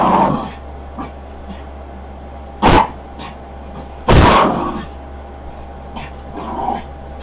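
Dogs whimpering and giving short yips nearby, a few sharp loud bursts over a steady background hum, with no talking.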